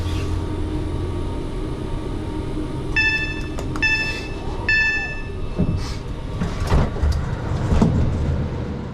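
An Avanti refurbished Pendolino train pulls into Preston station with a steady rumble of rolling stock. A tonal chime or brake whine repeats in short bursts, and there are some thumps near the end.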